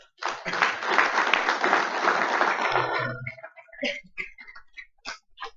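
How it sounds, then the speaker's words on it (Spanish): An audience at a veterinary talk on digestive diseases applauds the doctor after his presentation, a dense burst of clapping lasting about three seconds that then thins to scattered claps and faint voices. "agradecemos nuevamente al doctor, con un aplauso"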